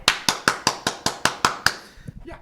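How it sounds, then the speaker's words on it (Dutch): About nine crisp hand claps in a steady, even rhythm at a carnival society's 2021 presentation evening, close and distinct, then trailing off into faint background murmur. "Ik ga weer applaus geven."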